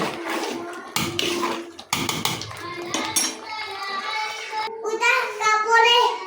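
A spoon clinks and scrapes through white pilaf in a cooking pot, with short bursts of metallic contact, under a child's and an adult's voices talking nearby.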